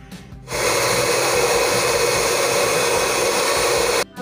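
An electric hand mixer beating ingredients for a sponge cake whirs loudly and steadily after a brief quieter start, a constant close motor drone that cuts off abruptly just before the end.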